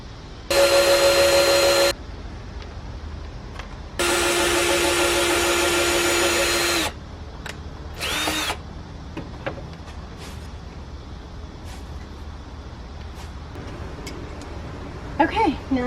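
Power drill boring pilot holes and driving screws into a wooden soil block maker: two loud, steady whirring bursts, one short and one longer, followed by a brief buzz and small handling knocks.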